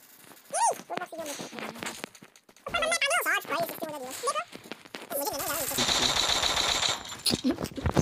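Rapid video-game gunfire, a weapon picked up in a loot-box gun challenge, bursts in sustained automatic volleys through the second half, loud and close, while excited voices talk over it.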